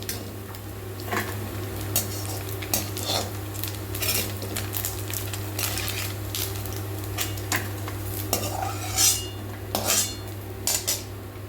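Small morola fish frying in oil in a pan, a faint sizzle under frequent metallic clinks and scrapes of a spatula against the pan, close by, over a steady low hum, with no voices.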